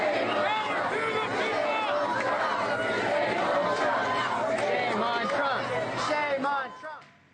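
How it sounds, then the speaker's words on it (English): Outside a town hall, a large protest crowd of about 3,000 people chants against President Trump, a loud, continuous mass of voices that drops away at the very end. "They're chanting, "Shame on Trump.""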